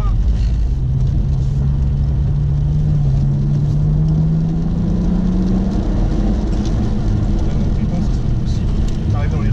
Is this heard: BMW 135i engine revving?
yes